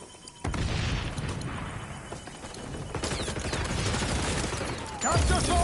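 Explosions and rapid gunfire from the XDefiant video game, with a frag grenade blast among them; a dense, loud barrage runs throughout, and a heavy boom lands near the end.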